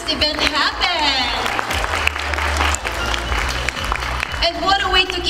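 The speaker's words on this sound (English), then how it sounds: "Let's give a round of applause again to Every Bilena for making this event happen." Loud applause from the audience at a press conference where a cosmetics brand welcomes its first male ambassador: dense, steady clapping mixed with crowd cheering and shrieks, lasting throughout.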